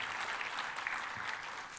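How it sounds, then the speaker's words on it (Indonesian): A church congregation applauds during a sermon, with steady, fairly soft clapping from many hands that continues evenly throughout. "Tepuk tangannya yang paling meriah buat Tuhan kita."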